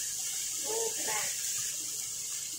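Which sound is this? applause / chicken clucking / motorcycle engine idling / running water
running water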